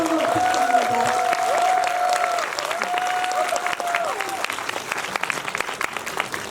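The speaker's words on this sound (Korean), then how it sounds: "여기 박수 한번 부탁드립니다" Audience applause at a film festival screening Q&A in Busan, steady clapping and crowd noise filling the room, with a host's voice speaking over it and a tonal sustained sound running through the first half.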